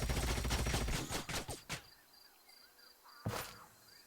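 Rapid bursts of gunfire from the sci-fi strategy game Age of Wonders: Planetfall, a dense volley of overlapping shots that thins into a few separate cracks, then a pause and one last sharp report.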